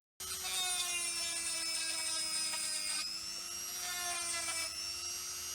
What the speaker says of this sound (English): I drill through for the screw that holds the knob in place